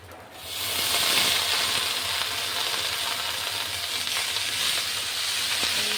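Chopped kolmi greens are tipped into a hot oiled pan, setting off a sudden bright sizzle that swells and holds as a steady, close frying hiss with faint stirring clicks.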